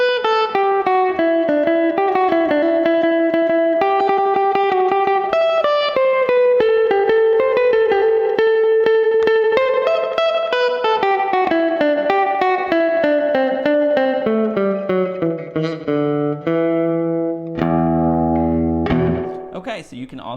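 A guitar run through a delay effect, notes repeating and smearing into a reverb-like wash that trails off into a noisy, distorted tail.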